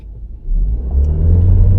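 2025 VW Taos engine revving from a stop, a loud deep rumble that swells steadily as the car begins to accelerate, with no talk over it.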